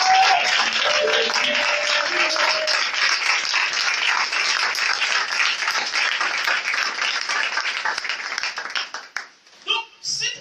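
A church congregation applauds and cheers in a sustained, dense wave of clapping and voices that fills most of the stretch, then thins and breaks up near the end.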